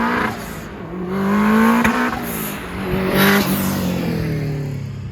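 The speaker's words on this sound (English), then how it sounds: "First thing I'm happy about are the turbo noises." A turbocharged Subaru GC8 fitted with a GTX2860 turbo drives and revs through the gears, its engine note rising and falling in loud surges with turbo whoosh and whistle heard from inside the car.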